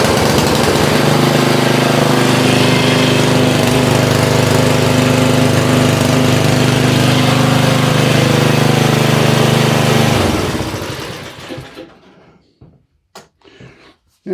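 A lawn mower engine runs steadily and loudly up close after a pull start with the throttle up, then cuts out and winds down, leaving faint clicks and handling noises.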